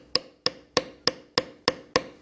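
Seven sharp, evenly spaced taps of a mallet on a leather beveling tool ring out as the tool shapes leather scales, each strike crisp and close with a short decay.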